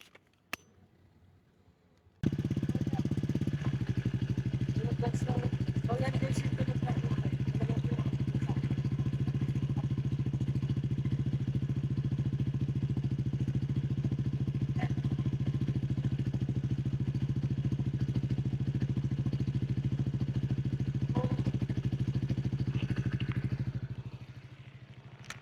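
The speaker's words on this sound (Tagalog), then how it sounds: "parinig ko nga pala sa inyo guys kung ano yung tunog ng Q-Pipe pagka lang" A Honda Giorno 125 scooter fitted with a Stax 2160 silent exhaust idles at close range, starting after a brief quiet moment and holding a steady, soft, low hum with light mechanical clatter for about twenty seconds before fading.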